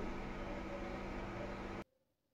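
White and black mustard seeds ground with green chillies, a steady whirring motor hum that cuts off abruptly, leaving near silence.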